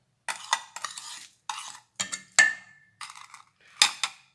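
Salt and cooking seasoning being stirred into a tofu and tuna pepes mixture in a bowl, giving a series of short scraping, clinking strokes in separate bursts, close and fairly quiet with no talk.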